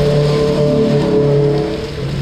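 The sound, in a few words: heavy rain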